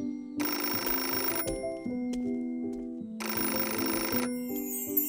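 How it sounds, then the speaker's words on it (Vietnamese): A telephone bell rings in a cartoon folk tale, two long bursts of ringing separated by a short pause, loud and close, over a steady background of soft music. "chắc là bạn tôi gọi điện"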